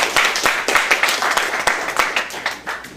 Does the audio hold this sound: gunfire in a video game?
no